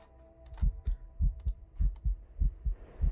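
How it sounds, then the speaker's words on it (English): In the video game Eternal Towers of Hell, a heartbeat thumps in steady lub-dub pairs, deep and muffled, about eight beats, with faint clicks scattered above it and no voices. "And the heartbeat sound."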